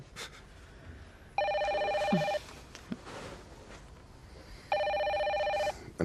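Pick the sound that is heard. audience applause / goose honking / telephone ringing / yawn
telephone ringing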